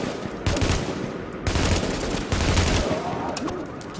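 Heavy automatic gunfire in the video game The Division, sustained bursts of rapid shots in three long volleys separated by brief pauses, loud and close, with a voice speaking faintly beneath.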